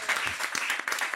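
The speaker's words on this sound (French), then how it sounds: "On applaudit." Studio audience applause on a French television show, a short burst of dense clapping, fairly close and steady, with a little voice mixed in.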